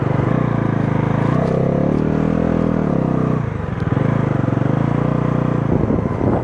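A Bajaj Pulsar NS 400 motorcycle climbing a hilly road, its engine droning close and steady with a slight dip in pitch midway, no voices.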